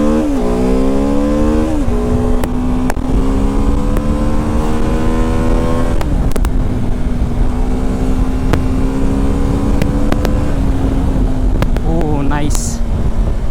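A BMW F450 GS motorcycle accelerates hard in first gear, its engine note climbing steadily and loud and close, with a couple of short pauses. A voice talks over the engine near the end.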